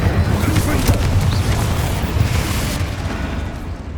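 Fiery spell burst in the Hogwarts Legacy video game, a loud sustained rumbling whoosh with booming low crackle that stays dense and steady throughout, heavy and close, with no voices over it.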